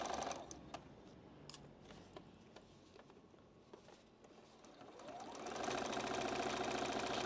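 Domestic sewing machine stitching slowly through a bulky quilt seam on an Ohio Star block, its fast mechanical chatter starting faint and growing steady and louder toward the end, with no talk over it.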